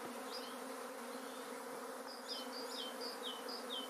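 A honeybee swarm pours out of the hive beside a barn, a steady, dense, faint buzzing drone with the high chirps of nearby birds over it.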